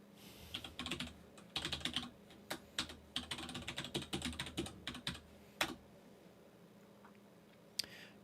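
Login password being typed on a computer keyboard: quick bursts of close key clicks with short pauses, then a final isolated keystroke, fairly quiet.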